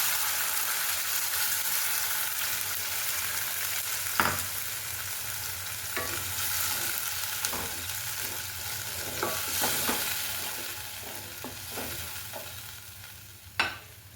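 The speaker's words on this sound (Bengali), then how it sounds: "এরপরে পালং শাকের পেস্টটা আমি এর মধ্যে দিয়ে দেবো।" Spinach paste frying in mustard oil in a wok, tempered with nigella seeds and a whole dried red chilli, gives a steady soft sizzle with occasional sharper stirring clicks and scrapes, including a louder knock near the end.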